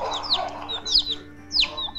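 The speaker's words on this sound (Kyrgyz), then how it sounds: "Мынакей жөжөлөр байланышат жатыр." Chicks or young chickens clucking and peeping close by, several short high calls in a loose irregular sequence.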